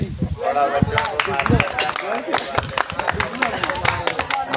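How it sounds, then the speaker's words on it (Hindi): Hands clap in quick, sharp strikes at a school science project presentation program, uneven and close, mixed with crowd noise and voices talking nearby. "अपना ताली बजा रहा हूँ।"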